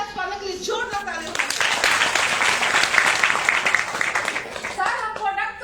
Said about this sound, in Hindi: जोर का ताली